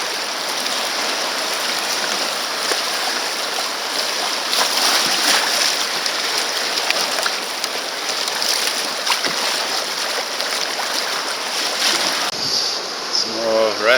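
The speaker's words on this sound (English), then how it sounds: "Pretty typical kind of easy rapids, fast flowing water." Fast-flowing easy rapids on the Orange River, a constant loud rush of churning water with no break, heard up close from the river.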